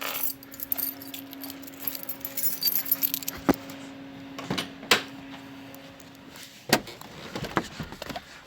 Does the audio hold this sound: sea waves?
no